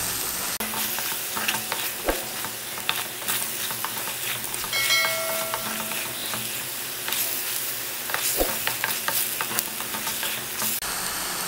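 Ingredients for a sea fish curry (chepa pulusu) fry and get stirred in a pan, a steady sizzle broken by scraping spoon strokes and occasional clinks, close and fairly loud with no talking.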